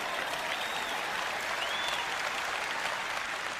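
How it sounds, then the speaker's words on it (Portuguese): Church congregation applauding God during a worship service: a continuous, moderately distant wash of many hands clapping, steady throughout with no individual voices standing out. "levante-se e dê um aplauso ao nosso Deus"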